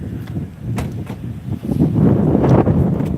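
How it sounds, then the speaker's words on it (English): Wind gusting outdoors on a downtown street, a low rumbling buffet against the microphone that swells louder and rougher toward the end, with no talking. "the wind's starting to pick up"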